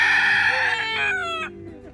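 A wild rooster on Kauai crows once outdoors, a loud, drawn-out call that rises and then trails off over about a second and a half.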